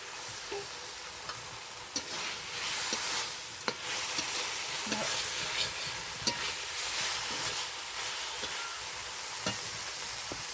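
Shrimp frying with carrots in spiced oil in a pan, a steady close, loud sizzle running throughout with occasional clicks and scrapes of stirring, no voices.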